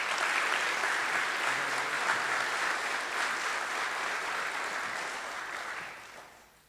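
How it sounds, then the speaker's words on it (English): A big round of applause rises from the audience at an honors night, steady dense clapping that fills the room and fades out near the end. "So let's give him a big round of applause."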